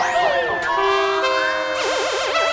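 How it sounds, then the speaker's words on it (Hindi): A loud electronic siren blares in a housing society, its overlapping tones sweeping up and down and then switching to a rapid warbling wail that fills the whole moment without pause. "तो ये सायरन की आवाज बंद करो, मेरे कान फट रहे हैं"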